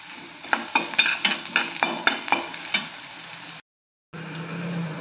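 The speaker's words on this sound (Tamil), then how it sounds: "வதக்கிக்கலாம். முந்திரி பருப்பு, உப்பு கொஞ்சம் போட்டுக்கலாம்." Cashews and salt sauté with green chilli in a pan, close scraping stirs clattering in a quick run over a soft sizzle, then a brief cut and a steadier frying hiss resumes.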